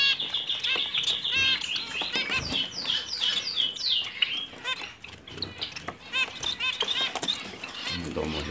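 A Gouldian finch pair and their chicks in a nest give rapid, high, busy chirps and twitters close up, with scratchy rustling beneath and a person talking toward the end.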